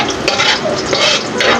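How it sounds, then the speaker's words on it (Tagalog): Garlic browning in a hot pan gives off a steady, close sizzle with scraping stir sounds rising and falling over it; no one speaks. "ibabrown lang natin yung bawang"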